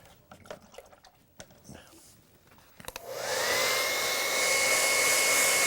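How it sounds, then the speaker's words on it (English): A handheld blower switches on and roars steadily, drying a freshly worked painting in an art studio; quiet shuffling and small handling noises come first, then the loud continuous whoosh with a slight whine holds to the end. "I'm going to dry this with the blower"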